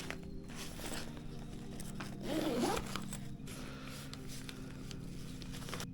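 Zipper on an inside compartment of a TravelPro FlightCrew 5 Slim Expandable Rollaboard suitcase, one short quick pull, faint and close in a quiet room.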